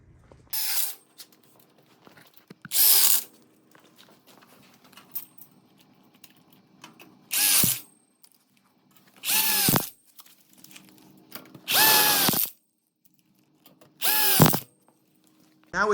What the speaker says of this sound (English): we can go ahead and screw it in fast and easy, all these one ways.